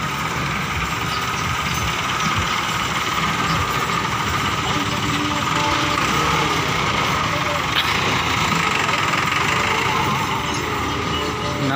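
A new Massey Ferguson 385 tractor, a 2022 model, idles with a steady, loud diesel drone throughout, and voices can be heard under the engine noise.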